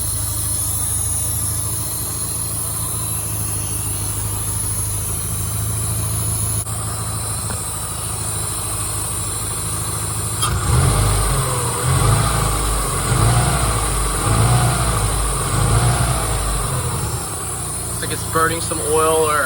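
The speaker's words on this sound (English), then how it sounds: "It runs, oh my gosh, man. Rally car runs, guys." Subaru Impreza GC8 rally car project, just brought back to life and burning some oil, its engine running with a steady throaty idle and then revving in repeated surges, close by, with people talking over it.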